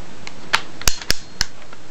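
A Crosman air pistol fitted with a homemade silencer fires, giving a few sharp, muffled cracks spread across two seconds, each short and close with quiet gaps between.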